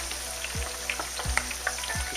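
Spring rolls (nems) frying in hot oil, a steady soft sizzle with small crackling pops scattered across it and a few low thumps at regular intervals, all heard close.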